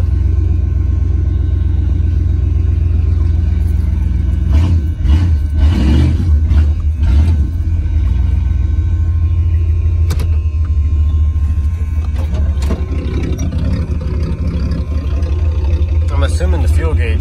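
1984 Monte Carlo engine running in a steady, loud low rumble close by, idling continuously, with brief clunks and handling noises partway through.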